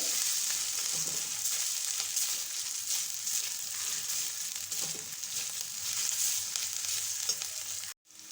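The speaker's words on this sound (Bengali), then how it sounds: "পেঁয়াজ আদা লঙ্কা ভাজা হয়ে গেছে।" Onion, ginger and chili fry in a pan with a continuous close sizzle and light stirring scrapes, cutting off abruptly near the end.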